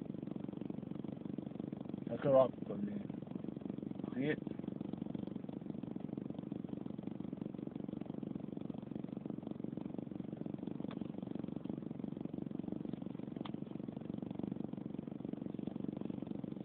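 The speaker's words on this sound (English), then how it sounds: "This is my car running." A car engine runs at a steady low idle hum throughout, with a person talking briefly over it near the start.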